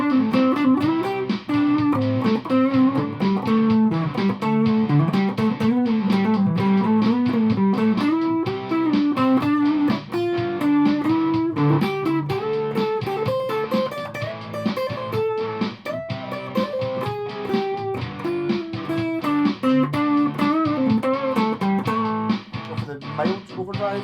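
Electric guitar played through an ARTEC QDD Quadsound preamp on its rock distortion setting, loud continuous distorted riffing with sustained chords and busy single-note lines, close and uninterrupted.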